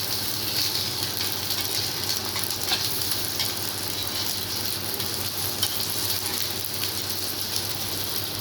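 Marinated fish sizzles and fries on a dosa griddle, a steady, even crackle that holds close and loud the whole time, with no voices over it.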